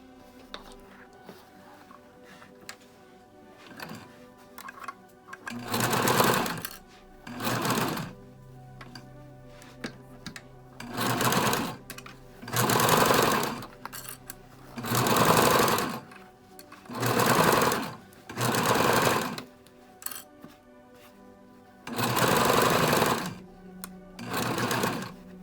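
A sewing machine stitches the side seam on the outer layer of a fabric face mask, running in about ten loud bursts of several seconds each, separated by brief pauses, with no voice.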